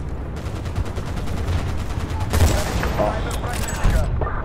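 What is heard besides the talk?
sniper rifle shots in video game Battlefield Bad Company 2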